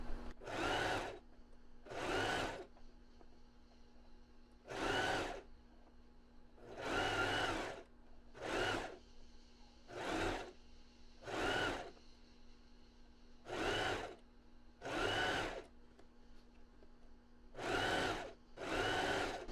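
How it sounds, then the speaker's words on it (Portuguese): A sewing machine stitches a flattened zigzag seam on lingerie fabric in bursts of about a second, separated by short pauses with a faint steady motor hum, close and fairly quiet, with no talking. "E agora eu vou costurar assim, achatando a costura até o final"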